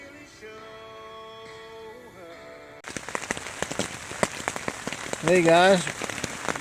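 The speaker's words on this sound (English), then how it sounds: "it's raining a little bit harder" Rain patters steadily on a three-person Ozark dome tent at night, a dense irregular drumming that starts abruptly and continues, with a man's brief greeting and a short whistle-like call over it.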